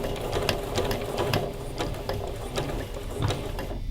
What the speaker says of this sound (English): I'm going to sew to the point of this little line.